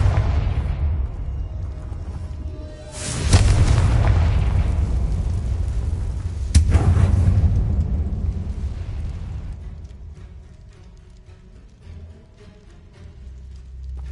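Explosion spells are cast in a wizarding video game, two sharp booming blasts a few seconds apart, each with a rumbling decay, followed by quieter ambient game sound.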